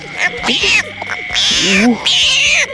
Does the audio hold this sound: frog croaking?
yes